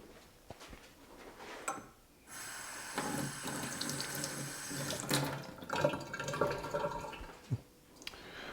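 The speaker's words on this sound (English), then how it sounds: "Just going to give that a quick rinse." Tap water runs steadily into a sink for a few seconds as part of a Nutribullet Select 1200 blender is rinsed, with clunks and knocks of the part being handled before and after.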